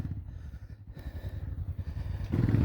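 An off-road motorcycle engine labors and revs in a rapid, throbbing pulse, growing louder toward the end as the throttle opens on a mountain trail.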